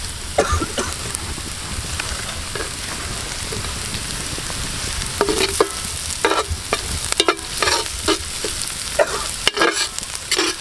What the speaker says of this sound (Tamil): இந்த ஸ்டேஜில் நம்ம பச்சை மிளகா போட்டு வதக்கிடுவோம்